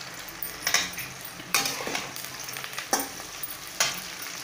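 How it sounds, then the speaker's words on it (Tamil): Fried brinjal tossed into softened onions in a pan, sizzling close up with several sharp scraping stirs and clinks of a spatula against the pan at irregular intervals. "இப்போ நம்ம பொரிச்சு எடுத்து வச்சுருக்க கத்திரிக்காய் சேர்த்துக்கலாம்"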